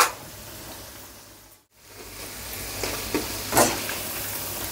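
Onion pakoda frying in hot oil while being stirred: a steady, close sizzle that dips briefly to near silence, then resumes with a few louder bursts of crackle and spatter as the pieces are moved.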